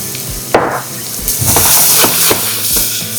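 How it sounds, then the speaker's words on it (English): Onions hitting toasted butter in a hot pan, a sudden loud sizzle followed by steady frying hiss with a few stirring knocks, close up and no talk. "Got that butter nice and toasty. I'm gonna put some onions."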